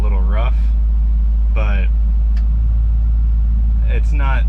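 A restomod truck on air-bag suspension drives around town, its steady low engine and road rumble running beneath someone talking.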